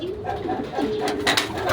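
Racing pigeons cooing close by during truck training, soft throaty coos repeating over a steady background hum, with no voices heard.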